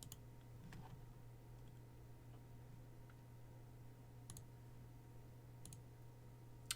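Scattered keystrokes on a computer keyboard while a network command is entered, a few isolated clicks spread over several seconds above a steady low room hum, fairly quiet and close.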